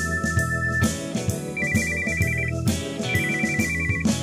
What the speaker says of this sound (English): someone's cell phone goes off in the middle of the concert